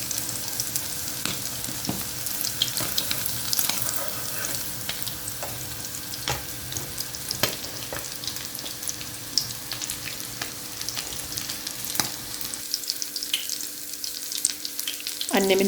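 Mücver, zucchini fritters made with vegetables and egg, frying in a pan give a continuous close sizzle and crackle with occasional light clinks, without any talk.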